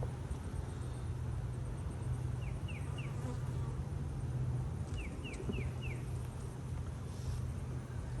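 Honey bees at an apiary hive during an inspection, a faint continuous low buzz with occasional chirping birds in the background and no voices.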